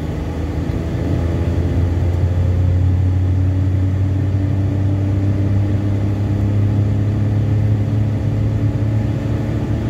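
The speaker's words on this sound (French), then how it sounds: "Donc, accélération." A small car with a Japanese Toyota engine accelerates, its steady low engine drone holding loud and close throughout with no voices over it.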